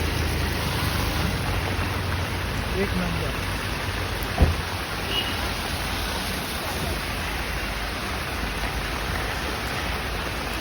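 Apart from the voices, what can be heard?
rain falling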